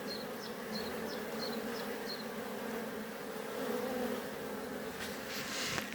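Honey bees buzz at a beehive in a steady, dense drone that holds throughout, fairly faint and close, with a few brief chirps early on and a short rustle near the end.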